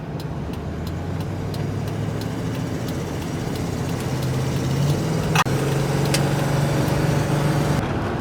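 A rebuilt 5.7 Vortec V8 engine with an exhaust leak runs at idle nearby with a steady low hum and a faint rapid ticking, broken once by a sharp click partway through.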